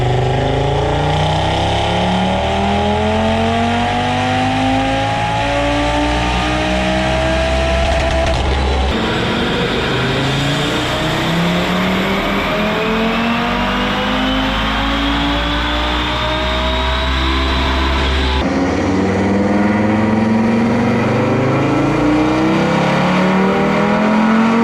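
A tuned Audi RS3 on a dyno running a pump gas tune, its engine revving hard through repeated rising sweeps, loud and continuous with gear-like resets, and no talking.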